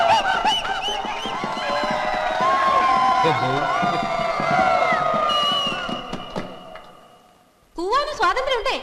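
An audience at an education talk breaks into loud hooting, whistling and jeering, many voices layered in a rowdy swell that fades out and then erupts again sharply near the end.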